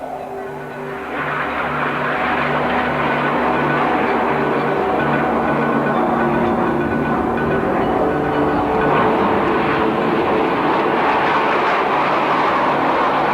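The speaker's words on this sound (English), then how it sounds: "Section of 4 aircraft in front of you doing a loop, and the section of 5 aircraft doing a roll inside the loop" A formation of jet aircraft performing a loop and roll at an airshow, a loud continuous engine roar that swells and holds steady throughout, with a broad rushing wash and low hum, no talk.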